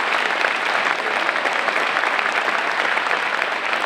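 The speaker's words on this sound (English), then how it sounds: "give him a big round of applause" Dense, steady applause from an audience at a community awards ceremony, sustained evenly from start to finish with no voices breaking through.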